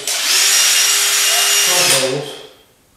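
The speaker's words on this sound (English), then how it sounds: "And now I'll take my long drill bit and try to pre-drill" Power drill with a long bit pre-drilling holes in wood for a Franklin library ladder chair: a loud, steady high whine that holds for about two seconds, then winds down and fades, with no voices.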